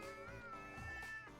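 A cat meowing in the room, a few drawn-out plaintive yowls in close succession at a soft level, with no one talking.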